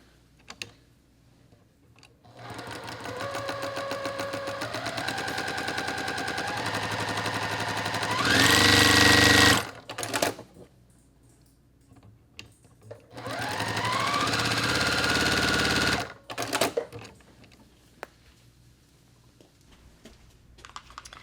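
A sewing machine stitches quilt block pieces along a marked line in three bursts of steady whirring at close range, rising in speed, with quieter handling pauses between runs.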